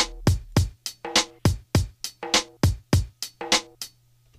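A drum loop plays back in Cubase, with a dozen or so sharp, close hits in a tight, steady rhythm that mixes kick-like thumps and brighter snare-like cracks, alone and without speech.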